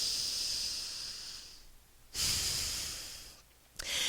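Deep, slow breathing during a yoga session for glute and hamstring strength: two long breaths, each a loud airy inhale or exhale lasting about a second and a half, close to the microphone, with no talking.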